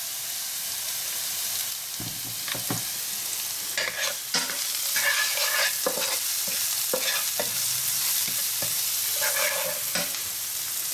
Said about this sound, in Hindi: थोड़ा टॉस कर लिया है मैंने